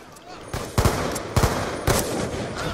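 Burst-mode gunfire in a shooter game cracks out in three distinct clusters of quick shots, each burst punchy and close, with a faint chatter of game noise between them.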